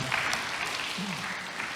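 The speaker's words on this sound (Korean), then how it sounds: "여러분 큰 박수 부탁드리겠습니다" An audience at a Korean job fair presentation gives a short round of applause, soft, steady clapping heard from a distance.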